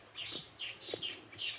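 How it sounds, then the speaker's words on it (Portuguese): Small birds chirp in short bright bursts outdoors by a muddy rural path near a wooden bridge, with a few clucks mixed in, moderately close and otherwise alone. "Olha os passarinhos."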